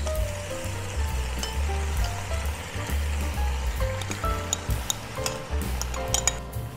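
Prepared sauce poured over beef with broccoli in a frying pan and stirred in, a close continuous sizzle with bubbling and scraping stirs, plus a low hum underneath, no voices.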